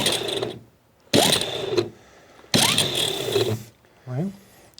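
The engine of a 1940 Chevy Dubl Duti truck, left sitting for 80 years, cranks dry in three harsh, whirring bursts of about a second each, close and loud, with short gaps between them.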